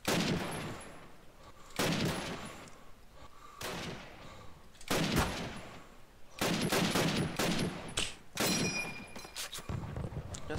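Rapid hip-fire gunshots in the World War II shooter Call of Duty: United Offensive, during a base assault multiplayer match. Sharp bursts of fire come in several clusters, close and loud, with brief gaps between them and faint voices underneath.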